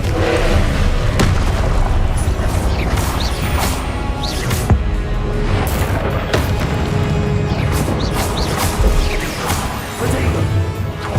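Hogwarts Legacy combat: the Confringo fire spell sets off a relentless string of loud, overlapping booms and crashes, with sharper impacts punching through a constant wall of noise.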